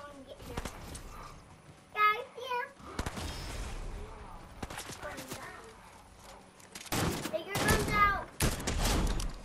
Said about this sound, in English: someone's shooting over here?